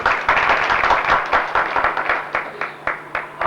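A crowd applauds club doctors at a Rotary gathering, with dense hand clapping at first that thins into scattered, uneven claps near the end.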